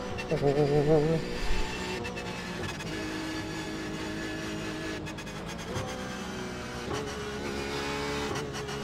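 Porsche 911 RSR GTE racing engine on the Nürburgring in iRacing, opening with a loud rising rev, then a sustained close engine drone with quick gearshift blips and pitch changes, no voices.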